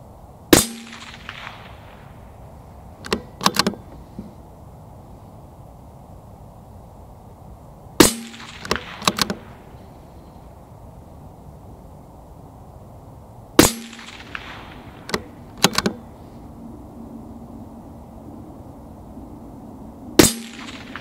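CZ 457 thumbhole laminate rifle in .17 HMR firing at targets, sharp cracks followed by metallic clangs of hits, repeated in groups of a few seconds apart, fairly distant with quiet background between.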